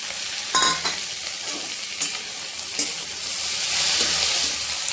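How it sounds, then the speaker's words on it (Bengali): Chopped tomato sizzles in a hot pan for a spicy semolina dish, a close, steady frying hiss broken by sharp scrapes and taps of a spatula stirring, with no voices. "টমেটো দিয়ে কিছুক্ষণ রান্না করে নিয়েছি"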